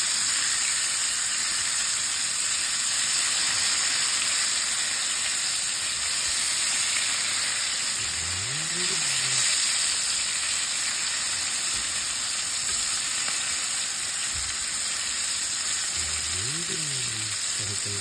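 Chicken frying in a pan at a home breakfast, a steady broadband sizzle that runs the whole time, close and loud, with a couple of brief tonal scrapes or squeaks partway through and no talk.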